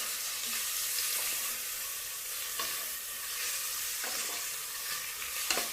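Onions frying in oil for egg biryani give a steady, moderately loud sizzle with a few brief clinks of stirring spaced through it, and no voices.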